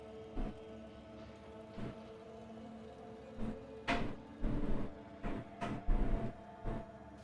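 Trains pulling in at a station in the video game Factorio, a series of separate clanking, whooshing arrivals over a steady low machinery hum, growing busier toward the end.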